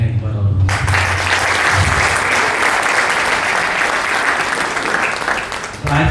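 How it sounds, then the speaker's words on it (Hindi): A poetry and shayari evening audience breaks into loud, sustained applause that continues steadily for several seconds, with a low voice heard briefly before and after the clapping. "थोड़ी सी तालियां एक बार और होंगी।"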